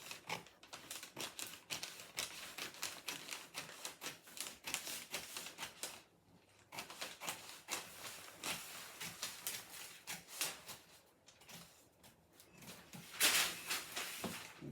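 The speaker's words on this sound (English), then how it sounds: "now you can cut all 3 layers" Scissors cut through three layers of fabric while a skirt is being made, giving a quiet, rapid series of crisp snipping clicks with short pauses between runs.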